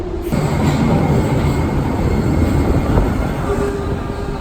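Steady rumble and rattle of a Tokyo subway train in motion, heard from inside the car near Shinjuku, with continuous wheel and track noise and a faint high squeal, no talking.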